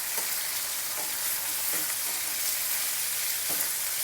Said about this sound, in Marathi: आता हे सोललेले काजू आपण फोडणीस घालूयात.